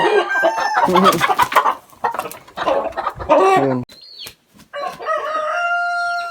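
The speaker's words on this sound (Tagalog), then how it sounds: "tandang ko na nanggaling sa dito sa kulungan ko" A rooster clucks in a loud, busy burst near its coop, followed by a long, drawn-out crow close by.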